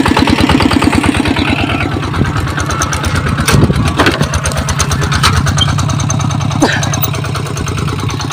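A driverless tractor in Laos with its engine running, a loud close rhythmic diesel chug that stays steady throughout, with a few sharp knocks and someone talking over it.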